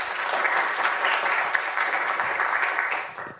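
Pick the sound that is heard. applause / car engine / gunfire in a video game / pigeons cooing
applause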